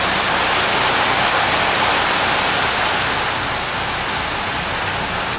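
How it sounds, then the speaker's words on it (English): Water leaking through a canal lock door on a French canal pours in a steady broadband rush, constant and fairly loud with no pauses and no voices. "behind us we have a little leakage at the lock door, which is usual and understandable"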